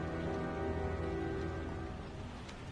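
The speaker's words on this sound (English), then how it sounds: "I'm outside. And again, it's heavy rain." Heavy rain falls outdoors in the video game Heavy Rain, a steady dense patter with a faint low rumble beneath, continuous and fairly close throughout.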